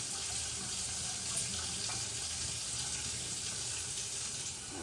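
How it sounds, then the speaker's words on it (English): Hot water pours steadily into a coffee maker's reservoir for a Christmas brew, a continuous close splashing hiss with no pauses and no talking. "And hot water for good measure."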